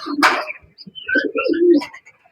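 Racing pigeons coo close by in a loft with eggs and chicks, giving soft throaty rolling coos in a short burst. Faint chirps and rustles come in between the coos.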